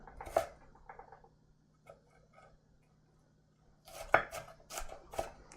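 Vegetables chopped on a board for risotto: a single sharp knife strike, a long quiet pause, then a quick cluster of close chops.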